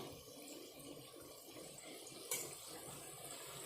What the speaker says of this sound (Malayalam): ഉപ്പ് വെള്ളം ഇതിനകത്ത് ഒഴിച്ചു കൊടുത്താൽ മതി